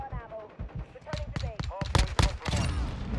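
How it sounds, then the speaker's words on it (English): Rapid suppressed pistol shots from Call of Duty MW2 crack out as a string of sharp, closely spaced bursts, with someone talking over much of the firing. "He would always use, like, a suppressor pistol, but it was, like, small, just like this one."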